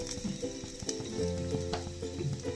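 Frying in a pan while cooking varutherissery, a Kerala dish: a steady close sizzle runs throughout, with scraping and stirring clatter mixed in and no talking.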